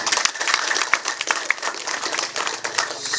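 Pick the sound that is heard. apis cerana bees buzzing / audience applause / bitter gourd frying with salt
audience applause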